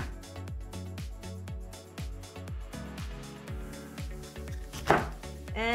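A knife chops onion on a cutting board in a home kitchen, a series of sharp, close taps in a quick, fairly regular rhythm with a few clinks near the end.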